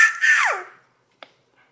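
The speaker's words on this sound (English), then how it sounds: "No screaming." A young child lets out a short, loud scream that bends downward in pitch and fades within a second, followed by near silence with a faint brief noise while eating yogurt.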